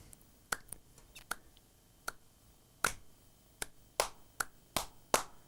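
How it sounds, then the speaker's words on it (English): Sharp, isolated hand claps tapping out a rhythm in a drum lesson, about a dozen crisp close strikes with uneven spacing over a quiet background. "then you just clap a rhythm"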